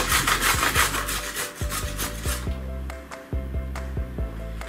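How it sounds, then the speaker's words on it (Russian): Raw carrot grated on a coarse kitchen grater, close rhythmic rasping strokes that start fast and dense and then slow to separate scrapes. "Первым делом давайте натрем морковь на крупной терке."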